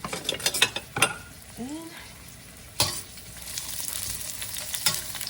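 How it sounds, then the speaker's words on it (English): Onion and cabbage stir-fried in a pan for a quick Asian-style dish: a loud, close sizzle broken by sharp clatters and scrapes of stirring, with a few bursts of clanking early on and again near the end. "Just throw the onion and kind of mix everything here"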